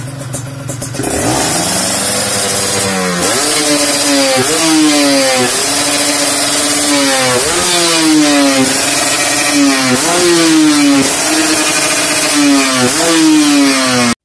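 A motorcycle fitted with a PWK CPO carburetor is revved repeatedly up close, each loud climb in pitch dropping back before the next, in a steady rhythm of about eight throttle pulls after a brief idle.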